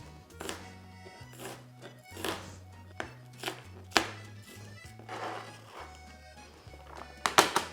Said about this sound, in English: Now we're doing the onion.